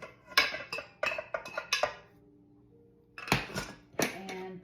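Thick cooked churro dough scraped into a stand mixer bowl and a mixing paddle clicked into place: clustered metallic clinks and knocks, a quiet pause with a low hum, then two more clanking bursts, close and moderately loud.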